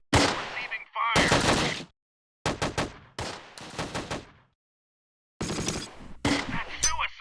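Gunfire in the wartime strategy game Close Combat: Wacht am Rhein, set in the Ardennes: several loud bursts of machine-gun and rifle fire separated by short silences, with radio-style voice callouts mixed in.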